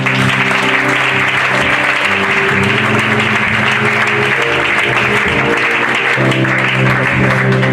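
A church congregation claps loudly and continuously through a Sunday service, the applause blending with music in the background.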